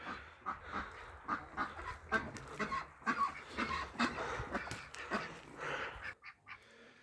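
Farmyard ducks, geese and chickens kept together, quacking and clucking in a steady overlapping chorus of short calls at close range, fading to quieter scattered calls at the end.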